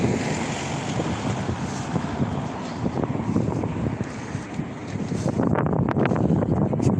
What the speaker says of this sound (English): Keep away from the wind if we can